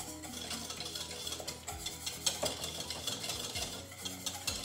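A whisk stirs taco soup in a pot on a medium flame, giving soft continuous scraping and swishing with light metallic taps against the pot, close and steady with a gentle sizzle beneath.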